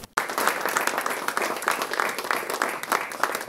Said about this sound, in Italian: Un grande applauso ha accolto i collaboratori di Ali